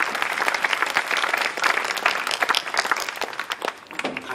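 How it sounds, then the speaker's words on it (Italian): Dense audience applause fills a 2018 Cervo ti strega evening event honoring the Istituto Aicardi, a steady, loud wash of many hands clapping that tapers slightly toward the end. "Un applauso per l'Istituto Aicardi."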